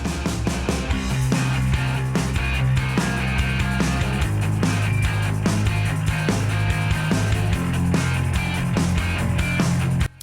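Alternative hard rock track by a young Belfast band from an EP: dense, loud, steady full-band playing with driving drums and a shifting low bass line throughout.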